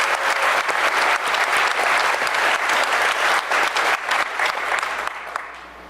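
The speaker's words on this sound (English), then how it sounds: "So can we give a round of applause for these awesome badges?" An audience claps steadily at a DEF CON 101 panel at the DEF CON hacker convention. The dense, close applause fills the room and fades away at the end.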